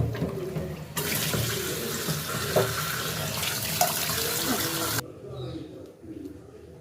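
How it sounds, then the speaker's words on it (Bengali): A piece of large fish for a fish-head muri ghonto is rinsed under a running kitchen tap, the water rushing steadily for about four seconds before cutting off, leaving faint kitchen clatter. "মাছটা ভালো করে পরিষ্কার করে ধুয়ে নিলাম।"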